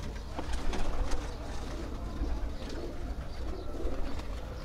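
Pigeons on a rooftop loft in Nowshera Virkan, Punjab, coo in low, steady murmurs through a noisy outdoor background, with a few sharper bird calls scattered over the few seconds.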